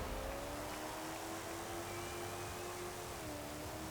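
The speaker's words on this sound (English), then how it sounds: "Slightly lower in terms of revs due to the fact it's now a lazier V8" A modified car's lazier V8 engine revs in Forza Horizon 4, a faint, steady engine drone with gently shifting pitch under broadband noise, no talking.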